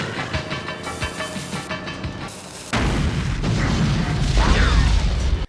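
Tanker truck blowing up in a Terminator film scene: mechanical rumbling and clanking, then a sudden loud, sustained roaring blast that fills the rest of the moment, with no talking.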